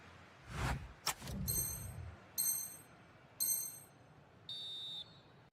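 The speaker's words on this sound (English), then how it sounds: "So the referee's whistle as the action is restarted." An eFootball referee's whistle sounds in a few short, high, shrill blasts spaced apart, after some low thuds and crowd-like noise.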